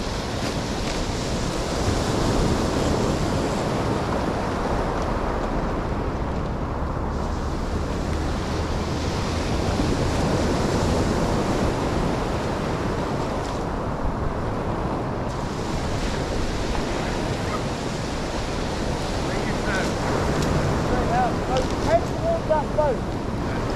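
Ocean surf breaks on a UK beach, a continuous broad wash of waves with steady wind rush across the microphone, loud and close throughout, with no voices.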